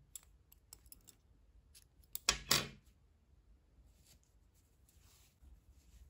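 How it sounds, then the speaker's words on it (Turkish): Scissors cut crochet yarn at a quiet table, a couple of sharp snips and a brief swishing cut standing out against near silence, with scattered small clicks around them. "İpliği kesiyorum."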